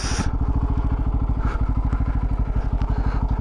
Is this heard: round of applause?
no